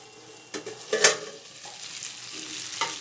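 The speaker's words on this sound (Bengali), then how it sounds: "এবার মাংসের সঙ্গে আলুটাকে একটু কষিয়ে নেব" Potatoes and meat being stir-fried together in a pan, with a steady faint sizzle broken by a few scraping stirs, one sharper clatter near the middle.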